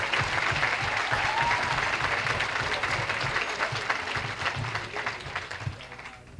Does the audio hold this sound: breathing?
no